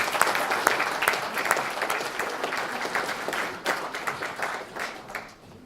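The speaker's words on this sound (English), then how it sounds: "Give them a round of applause, please." An audience applauds family and friends at a ceremony, steady clapping from many hands for about five seconds that thins out and fades near the end.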